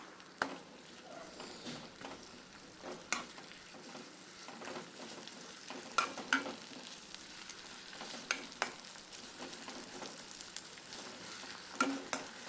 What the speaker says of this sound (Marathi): टोमॅटोला तेलामध्ये चांगले परतून घ्या.